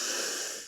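A single sharp inhale through the nose during a Kundalini yoga breathing exercise, close and breathy, fading out at the end.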